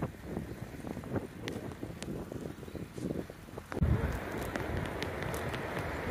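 Wind in the mountains of the Japanese Alps around Nagano on a cold day out cycling, a steady broadband rush with buffeting on the microphone and a stronger gust about two-thirds of the way in.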